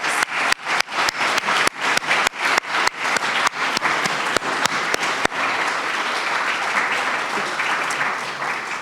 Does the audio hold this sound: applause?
yes